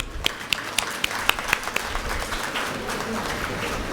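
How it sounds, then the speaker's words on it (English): Audience applause at the prize distribution of the 6th Kudremukh Trophy All India Open FIDE rapid chess tournament, a few sharp claps at first that swell into dense, steady clapping from a crowd in a hall. "I think they deserve a big applaud."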